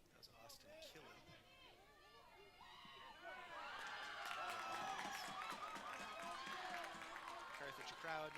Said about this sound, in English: Carthage crowd now starting to get into it a little bit, get behind their Firebirds.